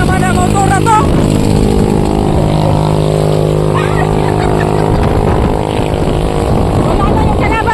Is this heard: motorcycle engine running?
yes